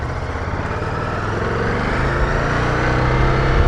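A Ducati Multistrada V2S motorcycle engine drones close up in a continuous, rough, low rumble that builds slightly over a few seconds, with no voices.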